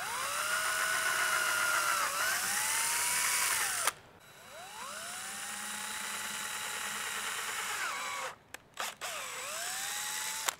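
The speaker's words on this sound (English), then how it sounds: "then we're going to drill it out to 3/16" An electric drill bores a pilot hole in plastic trim while a Tacoma accessory mount is being installed. Several close, loud whining bursts rise in pitch as the motor spins up, with brief pauses between runs.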